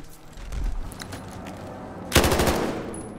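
Machine gun fire in the Battlefield Hardline video game, with a dense rapid burst of loud shots cutting in sharply near the end after quieter background game noise.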